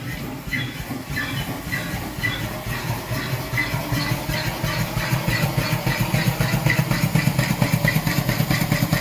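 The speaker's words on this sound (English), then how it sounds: "we're going to get it going" An Ashworth & Parker steam dynamo engine starts up alone, a steady mechanical chugging with rapid rhythmic beats that build gradually in strength and loudness, close and continuous.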